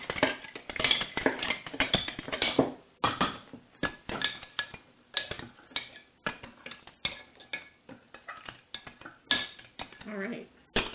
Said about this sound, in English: A knife is good to stir because you need a long handle.